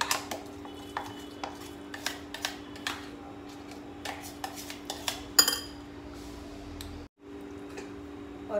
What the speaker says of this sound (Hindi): अब हम ये चावल एक बाउल में डाल लेंगे।